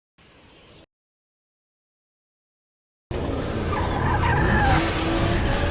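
Car tyres skidding and squealing while drifting in the video game Torque Drift, a loud continuous screech with engine roar after a short quiet sweep and nearly two seconds of silence.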